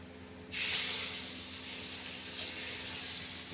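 Washed, wet bay leaves drop into hot oil with five-spice seeds and dried red chillies. A sudden loud sizzle bursts out, then settles into a steady, softer hiss that continues to the end.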